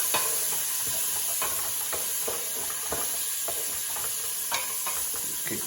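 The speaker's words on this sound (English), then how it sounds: "in a little bit of wine and deglaze this pan to get all those pan stickings off the bottom" Wine splashed into a hot pan with olive oil to lift stuck-on bits, a steady hiss of sizzling under repeated scraping strokes of a utensil, close up with no voices.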